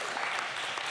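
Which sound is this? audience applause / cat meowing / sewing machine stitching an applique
audience applause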